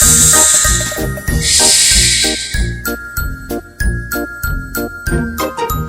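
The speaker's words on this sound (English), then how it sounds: "What sound does a snake make?" A cartoonish snake sound effect: a long bright hiss opens, followed by a run of regular, bouncy tonal hits with jingly overtones, loud and alone with no talk.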